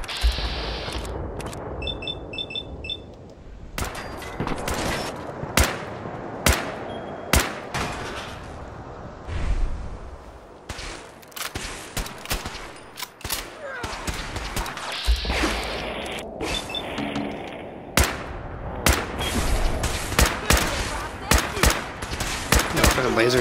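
Laser shotgun blasts and gunfire from the video game Fallout 4, a rapid series of sharp loud shots in irregular bursts with whooshes and crashes, a dense combat mix over a low rumble.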